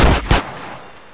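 Gunfire in GTA San Andreas Remastered: two loud, sharp shots in quick succession at the start, followed by a fading echo and quiet game ambience.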